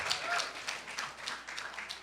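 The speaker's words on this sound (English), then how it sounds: "Give a round of applause" Brief applause from an audience at a networking event panel, a scattered patter of clapping at moderate volume with faint background chatter.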